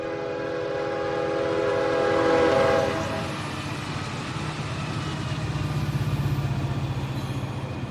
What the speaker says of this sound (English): And then suddenly this train appears, carrying all those refrigerator cars.